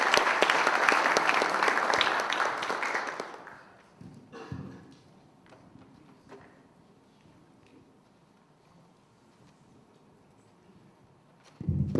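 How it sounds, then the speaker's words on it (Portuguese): Vigorous audience applause for a Python conference keynote speaker, loud for about three seconds and then dying away into quiet room noise with a few stray sounds and a brief rise at the very end. "uma salva de palmas para ele"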